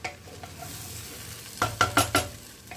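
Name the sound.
rice being stirred and fried in a pot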